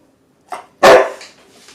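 Ember, a service dog, lets out a small yip followed by one loud, close, sharp bark that trails off into a softer whine-like tail.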